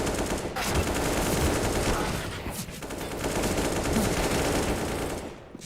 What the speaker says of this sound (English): It's a lot of AKs.